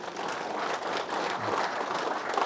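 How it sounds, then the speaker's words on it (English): Pub audience applauding during a motorcycle-racing podcast recorded down the pub, a steady wash of clapping that holds at an even level for a couple of seconds. "he deserves a round of applause for that."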